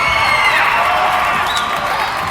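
A large stadium crowd cheers and roars before an event in the London 2012 game, a steady loud wash of massed voices and whoops that holds for the whole stretch.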